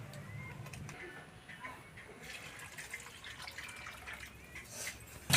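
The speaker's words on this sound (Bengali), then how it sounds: "ভালো করে জল দিয়ে ধুয়ে নিই।" Thinly cut taro is rinsed in water in a Purulia village kitchen, a quiet, faint trickling and sloshing of liquid that runs throughout and ends in a sudden sharp clatter.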